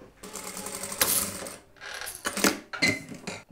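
Sewing machine stitching the front neckline of a jumpsuit with a jabot, right sides together: a close, loud mechanical whirring run in several bursts separated by short pauses, with no talking.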